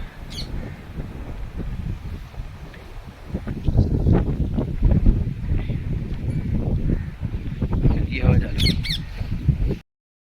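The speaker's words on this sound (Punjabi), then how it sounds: "ਹਵਾ ਬੜੀ ਚੱਲ ਰਹੀ ਆ" Strong wind gusts across open farm fields, buffeting the microphone with a continuous low roar. Occasional bird squawks and a voice come through the blustery noise.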